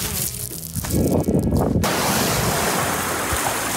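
Pacific Ocean surf roars in a broad, steady wash, with a burst of wind buffeting the microphone early on before the constant rush of waves takes over.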